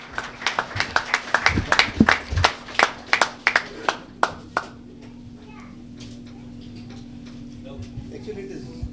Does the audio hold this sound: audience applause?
yes